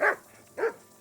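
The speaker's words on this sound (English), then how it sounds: "What now? What are you barking at?" Two short dog barks about half a second apart, fairly close and clear, with quiet in between, in the video game Kingdom Come: Deliverance 2.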